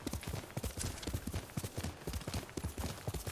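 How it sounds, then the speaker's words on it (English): A horse gallops in the samurai game Ghost of Tsushima, hooves beating a rapid, steady clip-clop rhythm up close, fairly quiet and repeating without pause. "We're using our horse everywhere we go."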